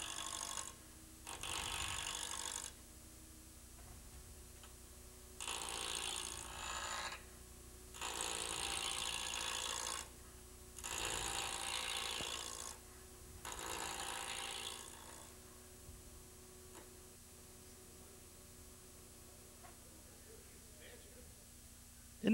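Wood is roughed down on a lathe in a run of separate loud scraping bursts, each lasting a couple of seconds with quiet gaps between them, over a low motor hum that gradually fades.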